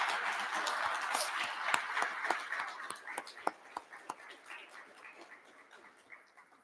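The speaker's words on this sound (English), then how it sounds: "give them a round of applause for all the work they do for you throughout the year" Applause from a convention audience honoring staff members at an annual board of directors meeting, a dense wash of clapping that thins out into scattered individual claps as it fades.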